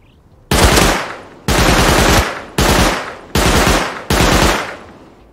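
Thompson submachine gun fire in the video game Rust: five loud, close automatic bursts of rapid shots, each lasting under a second, separated by short pauses.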